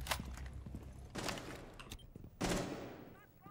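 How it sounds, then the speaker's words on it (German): Gunfire in the tactical shooter game Rainbow Six Siege: a few short bursts of shots ring out at moderate distance, separated by quieter gaps with faint shuffling. "Irgendwo schießt da einer auf mich."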